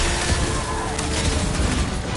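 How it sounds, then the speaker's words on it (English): Gunfire in the video game Guardians of the Galaxy, a rapid burst of overlapping shots and booms thick with other game noise, with some voice in the mix. "I'll lay down some cover fire to get you across!"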